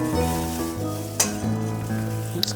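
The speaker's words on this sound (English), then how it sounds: "I'm just gonna wait to get that sizzle." Extra virgin olive oil and butter sizzle steadily in a pan, a close, even frying hiss with a couple of brief utensil clinks and no talk.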